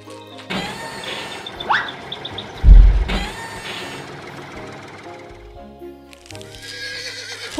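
Farm horses neigh and whinny in a few loud, close calls, mixed with a brief low thud and some mechanical noise in the background.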